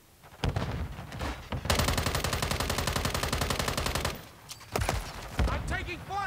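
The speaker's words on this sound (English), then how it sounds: "I'm taking fire." Automatic gunfire rattles in Modern Warfare III, a long rapid burst of close, loud shots followed by a pause, then scattered single cracks and another short burst.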